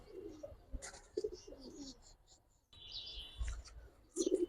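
A pair of Giribaz pigeons, a male and a female, coo softly nearby in short, repeated throaty calls scattered across a quiet background.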